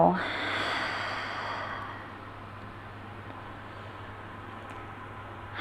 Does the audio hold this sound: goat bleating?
no